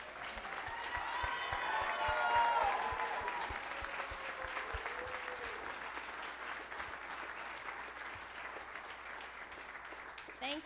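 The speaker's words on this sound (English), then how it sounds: "So can we stand and give them another round of applause," A church congregation stands and gives a round of applause, many hands clapping steadily under a voice speaking briefly at the start, the clapping swelling then gradually thinning out.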